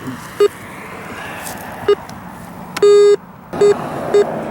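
Metal detector sweeping a front yard gives repeated short beeps that settle on a steady copper target tone, a longer sustained beep in the middle and a few brief ones after, close and clear over outdoor background hiss.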